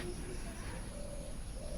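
Pigeons cooing around a home, soft low murmuring calls under a steady background hiss, faint and continuous.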